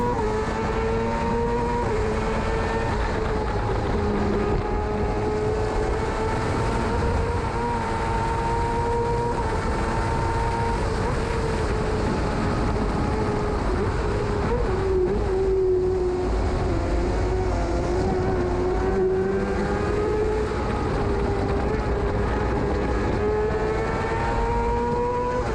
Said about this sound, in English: So heading up this train of sidecars is number 39 Bruce Moore with Amy Dodd.